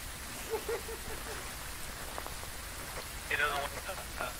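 Rain in the horror video game Phasmophobia, a faint, even patter-like hiss filling the background, with brief voice sounds at the start and near the end.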